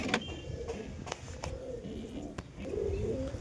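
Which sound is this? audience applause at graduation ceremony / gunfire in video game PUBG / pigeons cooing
pigeons cooing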